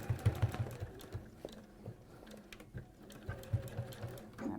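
A sewing machine stitching across raw fabric edges, a quiet rapid mechanical whirr in short runs with brief pauses.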